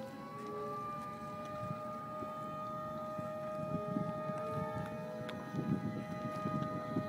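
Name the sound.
siren during rocket motor test countdown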